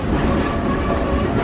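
An Auto Train carrying motor vehicles to Florida rolls by close at hand, a steady, loud rumble of rail cars and wheels on track with no voices over it.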